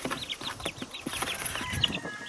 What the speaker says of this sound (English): Sorry if you hear the birdies. Got some little baby birds next to me.